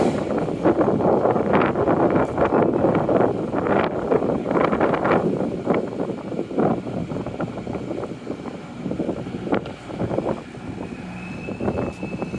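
Strong gusting wind buffets the microphone outdoors on a narrow walkway near the Cogswell Project in Halifax, a loud, continuous low rumble with fluctuating roar and no talk.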